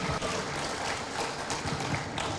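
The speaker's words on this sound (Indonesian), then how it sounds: "saya kira tepuk tangan bagi kita semua" Audience applause in a university hall during a talk by a vice-presidential candidate, a short, even burst of dense clapping at moderate volume.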